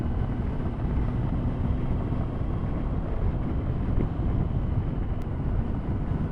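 Steady loud rush of wind and road roar on a 2000 Honda Fireblade motorcycle at speed, a continuous broadband blast with the engine buried beneath it and no talking.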